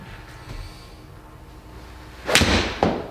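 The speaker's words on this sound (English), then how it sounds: "first shot's going to be a draw with a 7-iron" A single sharp, close strike as a 7-iron hits a Pro V1 golf ball for a draw, a crisp crack followed by a fainter second impact over quiet background.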